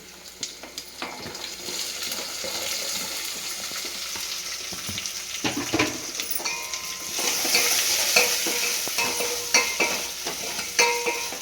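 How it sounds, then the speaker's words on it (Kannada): Finely chopped onion fries in a pan while making a brinjal bajji to go with rice roti, giving a continuous sizzle with clinks and scraping from stirring, the frying growing louder and busier toward the end. "ಈರುಳ್ಳಿ ಸ್ವಲ್ಪ ಕೆಂಪಗಾಗಲಿ"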